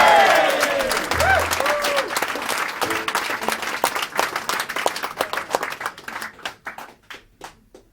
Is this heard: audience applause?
yes